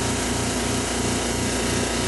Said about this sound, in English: And we let the vacuum run totally out on it so it keeps the part.